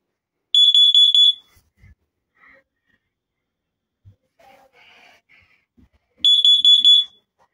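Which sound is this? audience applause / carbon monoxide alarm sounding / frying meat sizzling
carbon monoxide alarm sounding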